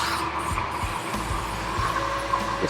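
Car engine on a test stand cranking on its starter under light load and throttle, a steady whirring mechanical drone with a sustained whine and regular low thumps, close and continuous.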